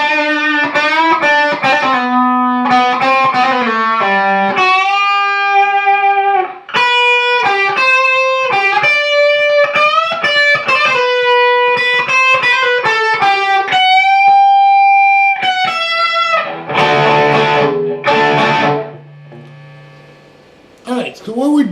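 Overdriven electric guitar solo from a song, with fast bent and sustained lead notes, loud and up front. Slides and a strummed, distorted chordal passage near the end, and faint amp hum behind.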